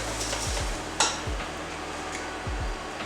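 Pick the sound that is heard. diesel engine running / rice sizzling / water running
rice sizzling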